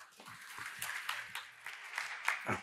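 Scattered, fairly faint handclaps ring out from the audience at a startup tech conference talk, AWS Summit Seoul 2023, welcoming the next presenters.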